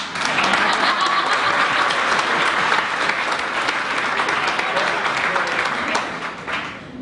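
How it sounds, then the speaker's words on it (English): Audience at the ICF Washington State Prism Award announcement claps steadily in a loud, sustained burst of dense applause that fades slightly near the end. "So, clap, clap, clap."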